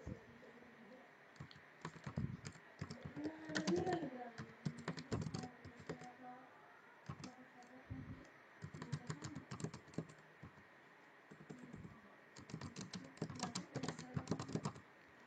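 Computer keyboard typing in bursts of rapid clicks with short pauses, close and moderately loud, as a name is entered into the Contiki Cooja simulator software; a faint voice murmurs briefly underneath.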